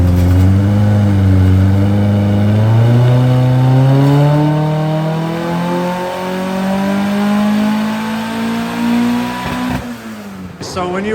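A turbocharged Toyota AE86 with Haltech Elite tuning running on a dyno, its engine revving loudly as the pitch sweeps steadily upward, then dropping off near the end, close and continuous.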